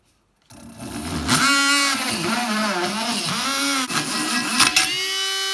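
Drill bit boring into the stem of a traditional hookah, a steady whining grind with rising and falling pitch under load, close and loud for about five seconds.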